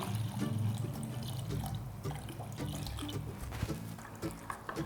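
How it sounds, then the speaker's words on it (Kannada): Water splashes and gurgles as it is poured into a pot of horse gram curry, a close, fairly quiet liquid rush with small clinks and no talking. "ಸ್ವಲ್ಪ ನೀರು ಹಾಕ್ತಾ ಇದ್ದೀನಿ"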